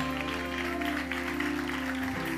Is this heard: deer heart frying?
no